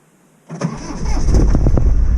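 A car with a snapped cambelt is cranked and catches, a short starter whir followed by a rough engine firing up close and loud, its uneven beats settling into a sputtering idle.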